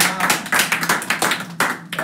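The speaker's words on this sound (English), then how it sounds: "A round of applause." A small group claps in an uneven burst for about two seconds, the sharp hand claps close and bright, with a voice briefly mixed in.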